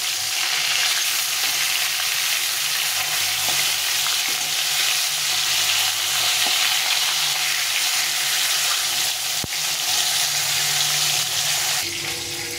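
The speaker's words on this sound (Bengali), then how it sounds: "মাছগুলো ভাজা হয়ে গেছে, উল্টে পাল্টে সুন্দর করে লাল করে ভেজে নিয়েছি" Fish pieces sizzle steadily in hot oil in a pan as they are turned and browned, a continuous close crackling hiss with no voices.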